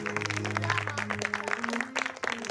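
Scattered clapping at a Hindu religious discourse in Mathura, moderately close and fairly quiet, mixed with sustained musical tones that shift pitch through the clip.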